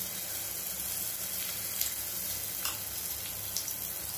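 Ragi rava kuzhi paniyaram batter sizzles in oil in a paniyaram pan over low heat, a soft, steady crackling hiss with a few faint pops and no voices.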